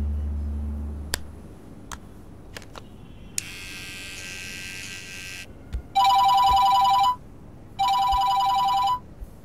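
A telephone rings in two long bursts of bright electronic trilling after some quieter clicks and a brief buzz, loud and close, the same unknown number calling again and again, with no talk.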